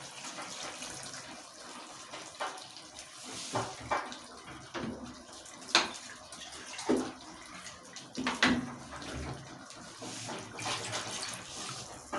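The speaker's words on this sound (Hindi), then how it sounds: "अब मैं इसमें पानी डाल रही हूँ" Water poured into a cooking pot for chicken and potato curry, a continuous splashing gush with a few louder clatters, fairly quiet, with no talk over it.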